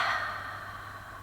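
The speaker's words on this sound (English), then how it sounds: "Taking deep inhales and exhales." Deep inhales and exhales during a guided yoga-style fusion stretch: a soft, breathy airflow that swells at the start and then tapers into a quiet, steady hush.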